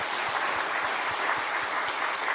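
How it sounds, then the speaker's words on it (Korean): A church congregation applauds its pastors: steady, dense clapping from many hands, loud and continuous throughout with no pauses. "목회자들에게도 박수 한번 드립니다."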